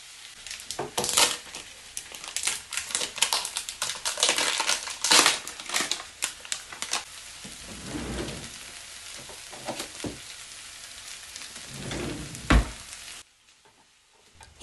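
Capsicum and green chili being stirred together with cooked potato in a hot pan, with busy scraping and sizzling that comes in uneven bursts before the sound drops off near the end.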